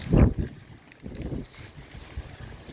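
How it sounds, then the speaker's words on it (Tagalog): Gusts of wind buffet the microphone in uneven low rumbles, strongest at the start and then in weaker bursts. "ang lakas ng hangin na yan"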